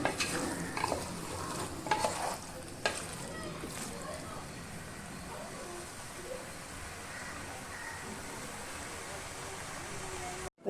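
Chicken sizzles steadily in a pressure cooker while being sautéed for gravy, with a few clanks of a spoon stirring near the start, then a constant crackling fry.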